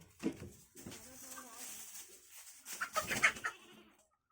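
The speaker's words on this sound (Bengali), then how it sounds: "সাদা ছাগলটা কই" Goats bleat a few times amid a busy goat farm, with people talking nearby and some clucking fowl in the background.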